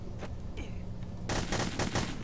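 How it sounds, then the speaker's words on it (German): Paintball gun fire in the video game The Hidden, a few scattered shots followed by a loud, rapid burst of several close shots. "Dieser scheiß Fahrrad hat mich mit der Paintball-Waffe angeschossen, Alter."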